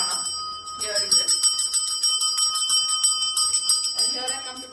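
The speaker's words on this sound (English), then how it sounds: "If you see I'm continuously ringing the bell, this will distort the energy." A hand bell rings continuously during a sage smudging ritual indoors, bright repeated metallic strikes with sustained ringing tones, close and fairly loud, while a voice talks over it.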